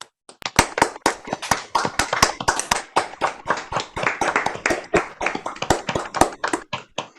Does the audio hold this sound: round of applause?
yes